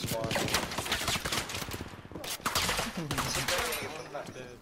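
MG42 machine gun fire in a video game, dense rapid bursts mixed with other gunfire and loud game action while players talk over it.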